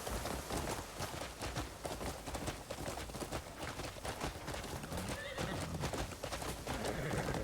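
Horse galloping with rapid hoof clip-clops and repeated neighs in the video game Crimson Desert, loud and continuous throughout, with faint talk in the background.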